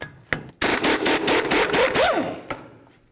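An 18mm socket on a ratchet or impact tool works loose the brake backing plate mounting bolts on a 1999-07 Chevy Silverado, a close, loud rasping whir in short bursts after a sharp click.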